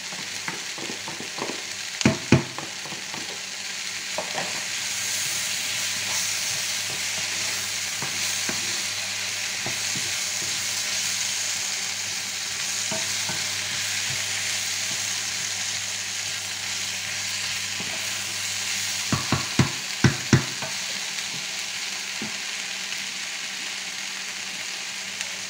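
Leeks frying in a pot for beef bourguignon, a steady close sizzle running throughout, with occasional clacks and scrapes of a spoon stirring near the start and again toward the end.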